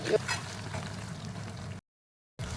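Ground onion paste sautés in a pan for matar paneer, a steady low sizzle that cuts out briefly to silence before resuming, with no clear speech.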